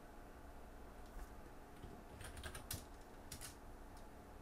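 Quiet bursts of keystrokes on a computer keyboard during a Go programming session, with short clusters of soft clicks over a steady low room hum.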